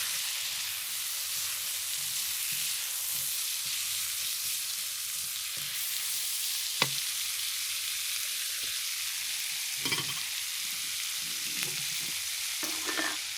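Sesame seed oil sizzles steadily in a pan for a shrimp curry stir fry, a constant bright frying hiss with a few sharp clicks and scrapes near the end, no voices.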